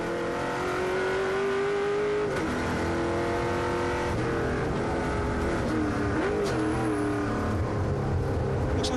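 Holden V8 race car engine at Manfeild Raceway, heard as a loud, steady high-revving roar whose pitch rises and dips with gear changes, with no talk over it.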